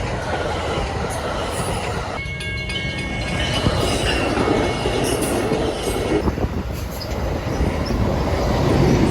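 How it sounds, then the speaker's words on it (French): A Saint-Jérôme commuter train rolls past, a loud continuous rumble of wheels on rails with some squealing and clatter building toward the end. "C'était le train de Saint-Jérôme."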